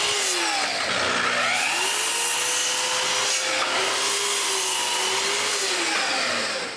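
A power saw cuts small cedar end planks for a patio table, a loud continuous whine and rasp that shifts in pitch as the blade bites and moves through the wood, with no talking.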